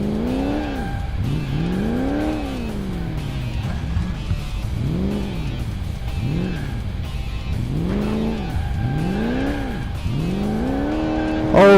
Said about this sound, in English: I'm a tiny little RC car